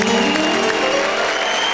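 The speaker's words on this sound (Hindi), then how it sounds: "जरा जोरदार तालियां बताइए वेणुगोपाल जी के लिए।" Loud, dense applause from a crowd at a Hindi comedy and poetry stage show, filling the whole moment as a steady wash of clapping without a break.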